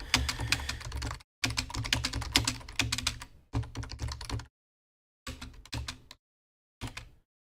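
Computer keyboard typing comes in bursts of rapid, clattering keystrokes separated by short pauses, close and moderately loud, with the later bursts shorter and sparser.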